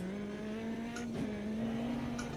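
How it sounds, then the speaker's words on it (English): A turbocharged race car's engine holds a steady, droning pitch in a sim racing game, loud and continuous with brief gear-change breaks, heard alone without talk. "a car with a big turbo kick like this one."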